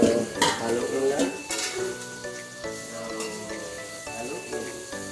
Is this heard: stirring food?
yes